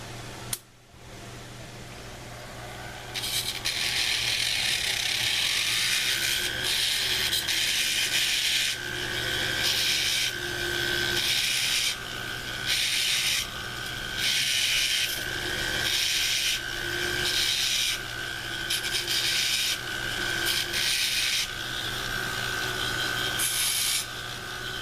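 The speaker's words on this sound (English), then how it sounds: "I like to use my heatless wheel or Mizzy wheel and take off those edges" A heatless (Mizzy) wheel on a power tool grinds the edges off a silver piece, giving a loud, steady abrasive whir broken into repeated bursts as the metal is pressed to the wheel and lifted away.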